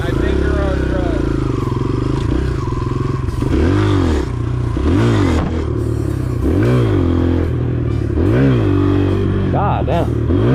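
Motorcycles rev hard on a closed-off road during wheelies, engine pitch repeatedly rising and falling in loud close surges over a constant rumble, with a voice talking over it.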